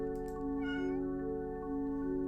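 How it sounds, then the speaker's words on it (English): A white cat meows close by, one clear drawn-out call over a steady humming background. "A cat, huh?"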